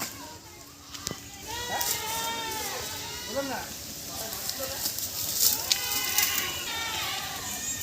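Several goats bleat at varying distances, wavering cries overlapping one another, while people talk in the background of an outdoor farmyard.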